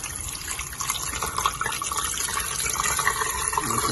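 Water pouring into a pressure cooker holding beef for bulalo, a steady splashing, filling rush that runs close and continuous without a pause.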